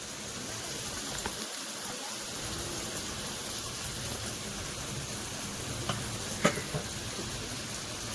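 Chicken pieces coated in masala frying in a pan, a faint continuous sizzle with a few soft stirring knocks and one sharper clink near the end.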